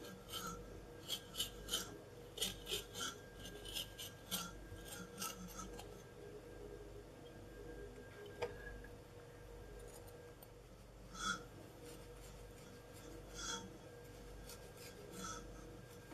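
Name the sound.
long knife cutting sponge cake in half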